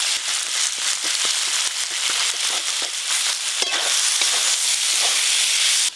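Snake gourd slices fry in mustard oil with poppy seeds and chilli powder, giving off a steady, close hiss of sizzling with small crackling pops and no talk.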